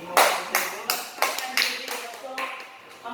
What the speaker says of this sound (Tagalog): Napakahusay, bigyan ng palakpak